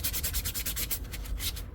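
A damp paper towel rubs paint off rubber stamps in quick, rhythmic back-and-forth strokes, about a dozen close scrubbing swipes with no talking.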